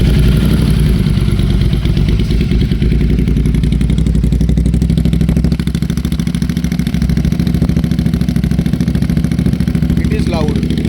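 An Interceptor motorcycle engine runs close by, giving a loud, steady idle with mechanical clatter and a slight rise in revs partway through.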